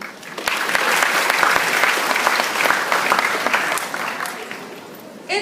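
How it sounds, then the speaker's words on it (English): An audience at a school moving-up ceremony in a theater breaks into warm applause, a dense burst of clapping that holds steady and then tapers off over about five seconds. "Let's give a warm round of applause for our moving up ceremony."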